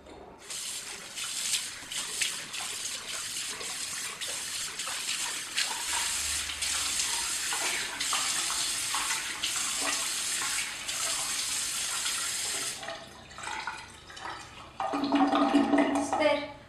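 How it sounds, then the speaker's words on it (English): Tap water runs steadily into a sink during a morning face wash, a continuous close splashing hiss with brief interruptions and a louder gush near the end. "I'm just going to go ahead and wash my face."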